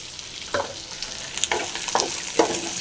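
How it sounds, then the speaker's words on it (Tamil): Dried red chillies and spices frying in a hot pan give a steady close sizzle, broken by several light stirring scrapes, with no voices. "இது நல்லா ஃப்ரை ஆகட்டும்"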